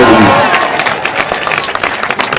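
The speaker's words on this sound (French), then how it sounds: "Vous pouvez l'applaudir cette fois-ci" Applause and cheering from a large crowd at the christening of sailor Samantha Davis's boat, steady and loud throughout with dense clapping and voices mixed in.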